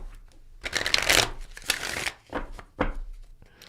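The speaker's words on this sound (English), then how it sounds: "let's give this a little break shuffle" Tarot cards are given a break shuffle: several bursts of riffling, fluttering card noise, close and crisp, separated by brief pauses as the deck is gathered.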